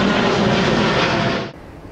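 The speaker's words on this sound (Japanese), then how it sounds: "飛行機来たー。 近いわ。 JAL だ、" A JAL airliner passes low and close near Narita Airport, a loud, dense roar of jet engine and rushing air that holds steady, then drops away sharply near the end.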